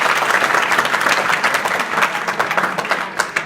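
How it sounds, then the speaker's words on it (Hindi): Students at a school adolescent education program in Azamgarh, India, clap together in a sustained burst of applause filling a hall, steady and dense throughout without speech. "ताली तो बजा लो अपने लिए"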